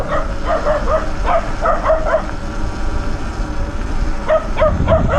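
Dogs bark in Doi Saket, Thailand, heard from a Sur Ron X electric motorbike. Sharp, repeated yaps come in two clusters over constant road and wind rush.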